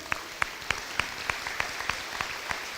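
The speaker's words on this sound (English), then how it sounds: "I just would like us all to give another round of applause." Scattered, sparse clapping from an audience at an elementary school dedication and ribbon cutting, a handful of distinct claps at an uneven pace over a soft room hum, moderately distant.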